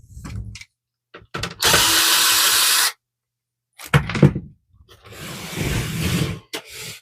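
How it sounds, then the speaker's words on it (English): Phillips screwdriver backing screws out of a Brother laser printer, close and loud: short clicks and scrapes, then two longer bursts of grinding, ratcheting noise separated by silence. "You're going to remove the two screws right here. You need a Phillips head screwdriver."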